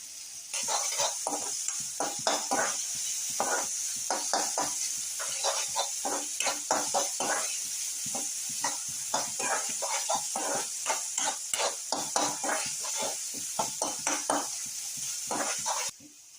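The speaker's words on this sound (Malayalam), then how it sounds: "അരിഞ്ഞു വെച്ചിരുന്ന കൊച്ചുള്ളിയും പച്ചമുളകും കൂടെ എണ്ണയിലിട്ട് കൊടുത്തിട്ടുണ്ട്" Chopped shallots and green chilies fry in hot oil, giving a steady bright sizzle with constant crackle and repeated scraping from stirring, close and fairly loud throughout, with no talking.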